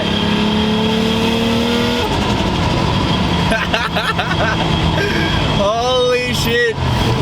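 A Toyota Supra engine tuned through a Haltech ECU revs hard toward about 4,500 RPM, loud and close, its pitch climbing and wavering, while excited voices shout over the roar.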